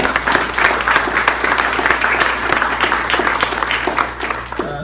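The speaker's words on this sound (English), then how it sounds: "So, give them a round of applause." Crowd at a primary care clinic celebration applauding its staff, loud continuous clapping that holds steady for nearly five seconds before easing off at the close.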